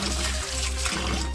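Steady running water pours continuously while washing biryani ingredients, like a tap filling a vessel, with a couple of brief interruptions as the flow shifts.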